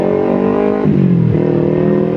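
A Kawasaki Ninja 250FI fitted with an aftermarket racing exhaust idles loudly and steadily close by, its engine note dipping and swelling as the throttle is blipped twice, with no voices.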